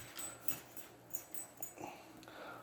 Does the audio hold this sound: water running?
no